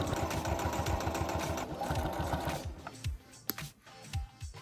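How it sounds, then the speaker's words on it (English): A sewing machine stitches straps of a cosplay costume, fast regular mechanical chugging that runs steadily, then slows into shorter bursts with small clicks, close and alone. "I sewed on both sides of each strap, starting from the vertical ones, and then working my way to the horizontal one across the chest"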